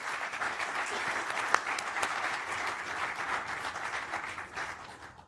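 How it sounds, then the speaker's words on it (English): Audience applause at a college alumni awards ceremony, a sustained wash of many hands clapping at moderate volume, even throughout and tapering slightly at the end. "let's clap anyway for Peter"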